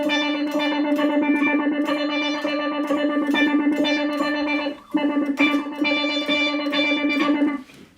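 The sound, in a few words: Boss SY200 synthesizer pedal note with tremolo and tone shifter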